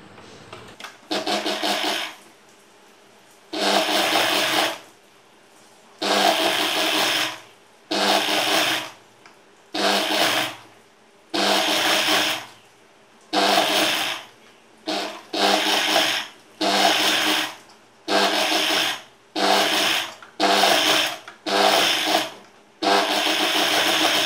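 A sewing machine stitches the folded edge of blouse fabric in repeated motor bursts of a second or two, separated by short pauses, loud and close with a steady whirring hum.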